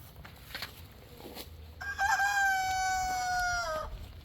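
A rooster crows once, loud and fairly close, a long drawn-out call after a few soft clucks and rustles.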